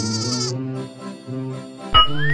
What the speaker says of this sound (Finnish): Ja tämä on lammas.